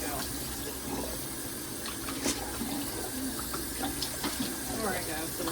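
Tap water runs steadily at a sink while reusable food containers are rinsed and washed, with occasional clinks of plastic and faint movement throughout, fairly close and moderately loud.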